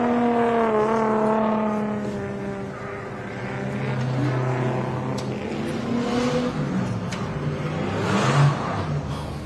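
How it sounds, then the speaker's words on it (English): Pro drift cars rolling out onto the track at Winton Motor Raceway, a steady wash of engine drone with layered harmonic tones rising and falling as several cars move about, continuous and moderately loud throughout. "our pro cars starting to head out on track now"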